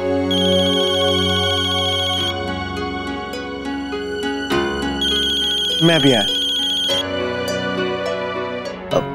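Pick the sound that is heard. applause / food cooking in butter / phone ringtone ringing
phone ringtone ringing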